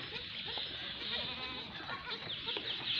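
Goats of the large Gaban Khiri breed standing on a farm, with faint bleating among a busy wash of background farmyard noise. A voice is faintly present.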